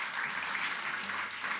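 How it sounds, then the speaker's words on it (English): Graduation ceremony audience applauding a panel, a short, fairly soft burst of steady clapping from a hall crowd. "So have a round of applause for our panel up here tonight."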